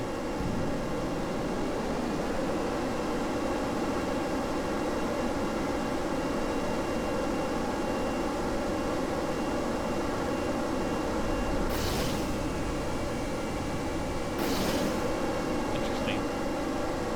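Sustained rocket engine thrust roars steadily in Kerbal Space Program, a broad, dense rumble that holds loud and even throughout, with a couple of brief hissing bursts near the end.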